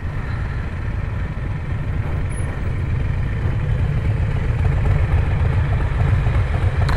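Royal Enfield Interceptor 650 motorcycle being ridden, a steady low engine drone with rushing road and wind noise holding at a constant level throughout, no voices.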